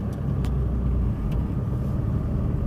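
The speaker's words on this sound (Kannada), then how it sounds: "ನಾನು ನೋಡಿ ಈಗ 4 ಇಂಡಿಕೇಟರ್ ಆಫ್ ಮಾಡಿ ಫಸ್ಟ್ ಗೇರ್ಗೆ ಹಾಕ್ಬಿಟ್ಟು ಈಗ ಮೂವ್ ಮಾಡ್ತಾಯಿದ್ದೀನಿ" A car engine pulls away in first gear with a steady, close low rumble that stays even throughout, broken only by a few faint brief clicks, and no one speaks.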